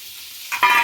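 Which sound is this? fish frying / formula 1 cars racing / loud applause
fish frying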